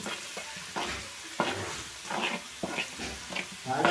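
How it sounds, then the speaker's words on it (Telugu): Mustard seeds, sesame seeds and garlic sizzle and crackle in hot oil in a pan while being stirred for a jujube pickle tempering, with repeated scraping strokes over a steady close frying hiss. "ఇలా కలుపుతూ ఉండాలి."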